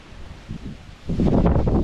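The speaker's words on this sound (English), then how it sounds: "it's really windy" Strong wind gusts on an open hillside, a soft rush that swells into a louder, steady roar buffeting the microphone.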